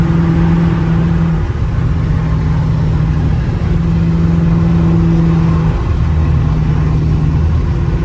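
A straight-piped Dodge Charger RT driving on a street gives a loud, deep, steady exhaust drone from inside the car, with the pitch shifting slightly as it accelerates and cruises.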